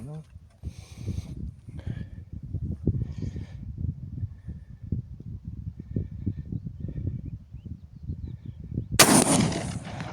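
Near the end an artillery round fires as one loud, sudden blast that rings out briefly. Before it there are several seconds of people talking.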